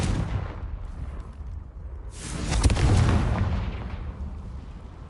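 Confringo fire spell exploding in Hogwarts Legacy on PS5: a broad, booming burst about halfway through that swells loud and decays slowly, following a quieter rumbling blast at the start.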